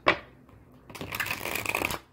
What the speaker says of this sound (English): I'm going to shuffle 2 more times here